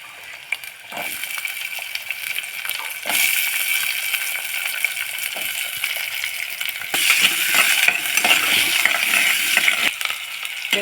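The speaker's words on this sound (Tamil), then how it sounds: "இப்போ வெங்காயத்தை சேர்க்கலாம்." Chopped onion sizzles steadily in a hot oiled pan with garlic, cumin and fenugreek; the frying is close and continuous, growing louder and brighter partway through, with no one talking.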